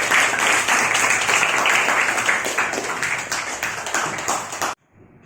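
A classroom of students gives a dense burst of clapping during an Indonesian language lesson on job application letters, loud and steady for several seconds before cutting off abruptly into near silence.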